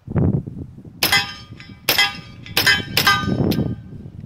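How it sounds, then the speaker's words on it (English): A Just Rite .45 ACP carbine fitted with a DPT suppressor fires five sharp, ringing shots at irregular intervals, close and loud, each followed by a short metallic tail. "Run a couple of shots through with the suppressor on and see how much difference that makes."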